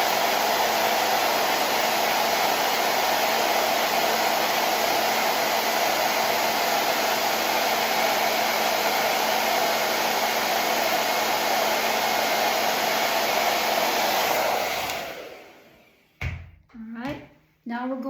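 A hair dryer drying a layer of paint, running loud and steady with a constant whooshing roar for about fifteen seconds before switching off, followed by a few brief knocks and handling sounds.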